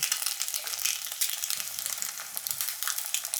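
Food for a Filipino breakfast fries in a pan, probably an egg crisping at the edges, giving a continuous bright crackling sizzle at moderate level with faint clicks and no talking.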